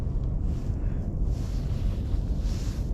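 Strong wind buffets the microphone on a frosty riverbank along the Moscow River on a cold morning, a steady loud roar with low rumbling gusts that carries on throughout, with no voices.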